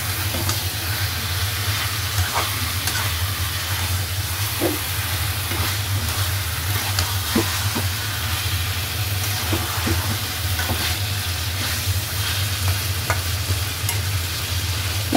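Meat is stirred and fried with spices in a pan, a constant loud sizzle and hiss with scattered scraping and stirring taps, close up and without talk.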